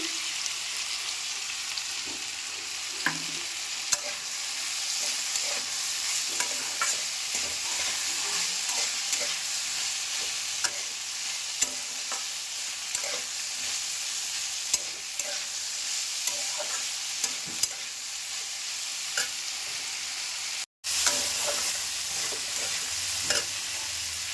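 Sweet corn fries in a pan under a constant hissing sizzle, punctuated by regular ticks and scrapes of stirring, with a brief dropout near the end.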